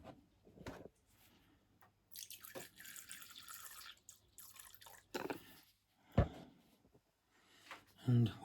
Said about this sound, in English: Just top that up a bit.